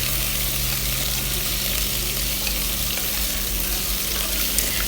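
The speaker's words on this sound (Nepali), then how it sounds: "अब मासुलाई मजाले भुट्नुहोस्।" Goat meat sizzles and fries with browned onions in a pan while it is stirred. The frying hiss is steady and continuous, with faint scraping from the stirring and no talk.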